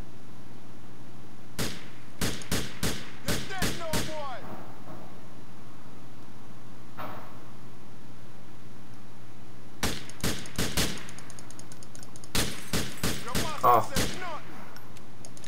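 Gunfire in Grand Theft Auto IV: two tight bursts of sharp, loud shots, several in quick succession each time, with a lone quieter crack between them. A voice speaks briefly over the shooting.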